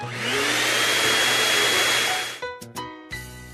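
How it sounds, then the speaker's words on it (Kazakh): A vacuum cleaner roars loudly and close by for about two and a half seconds, then cuts off abruptly. A few short tonal chimes follow. "Шаңсорғыш."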